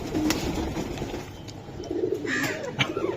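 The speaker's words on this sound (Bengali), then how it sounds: "টপ কোয়ালিটি একটা কবুতর, যা চাইলে সব সময় মিলে না।" Pigeons coo repeatedly close by in soft, rounded phrases over a low background murmur, with the odd chirp mixed in.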